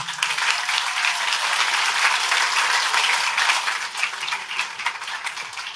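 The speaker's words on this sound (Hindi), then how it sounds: "ताली में कंजूसी नहीं, जोरदार ताली।" Dense, steady applause from a church congregation during a service, the clapping loud and continuous for several seconds, with no voices standing out above it.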